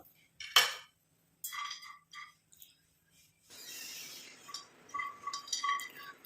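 Ten almonds dropped into a hot iron kadai on the stove make a few bright clinks and taps against the metal, followed by a soft sizzle and light scraping as they settle and shift.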